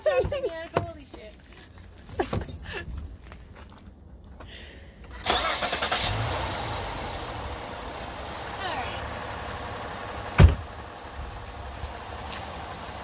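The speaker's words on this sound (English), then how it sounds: "you're going to turn on your car because your car is the one that has power." A car engine cranks and catches about midway, settling into a steady idle with a brief loud blip of revving near the end; clatter and handling noises come before it.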